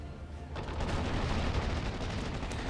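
World War II video game battle with Sherman tanks, a StuG and Wolverine tank destroyers: distant gunfire and explosions rumble in a dense continuous wash, swelling louder after a quieter start.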